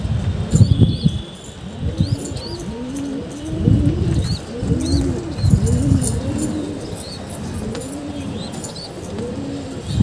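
Several pigeons coo in a steady series of low, rounded calls, overlapping close by, with brief chirps and a few soft wingbeats mixed in; no one speaks.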